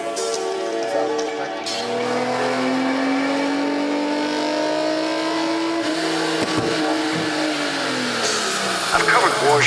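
A Nissan KA-T engine revs on a dyno, a loud sustained drone whose pitch climbs steadily over several seconds, then drops off with a brief rev near the end, with voices faintly under it.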